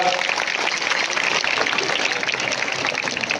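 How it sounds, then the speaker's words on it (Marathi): A crowd applauding students after a school mallakhamb performance, dense steady clapping from many hands that carries on at an even level throughout. "त्यांसाठी एकदा टाळ्या होऊन जाऊ द्या जोरदार"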